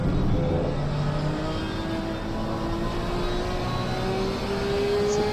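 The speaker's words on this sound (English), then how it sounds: "The Nissan is just getting away from him there." A Nissan race car in a PS5 Assetto Corsa Competizione race at Barcelona passes by with a steady, high engine whine whose pitch climbs gradually as it accelerates, moderately loud and unbroken, with no talking over it.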